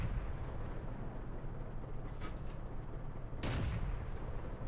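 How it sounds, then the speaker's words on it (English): Tank cannon shots in the World of Tanks game, fired from a Cruiser Mk. IV, two broadband bursts over a constant engine rumble, the second louder and closer than the first. "I'm just now firing to see if I can hit where he might be"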